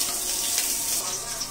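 Food frying in a pan in a home kitchen while noodles are being cooked, a steady close hiss and sizzle running through the whole stretch with faint clatter underneath.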